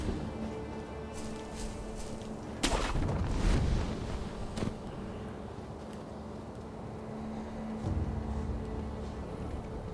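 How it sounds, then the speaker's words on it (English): A flame cannon fires in the video game Sekiro with one sudden, heavy blast that rumbles and fades over a couple of seconds, set against a steady low background hum. "Reason why we wanted to wait a little bit is for the flame cannon."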